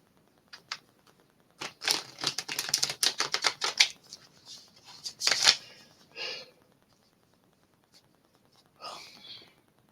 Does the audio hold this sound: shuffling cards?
yes